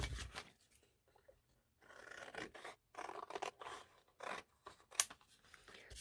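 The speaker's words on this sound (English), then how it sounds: "So I'm going to cut that." Scissors snipping a very small piece of material for a craft project, quiet close crisp cuts in short irregular bursts with brief pauses between strokes.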